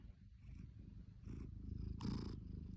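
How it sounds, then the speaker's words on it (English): A cat purrs steadily up close, a soft continuous rumble with a few brighter rustling bursts over it. "I don't know if you can hear him purring."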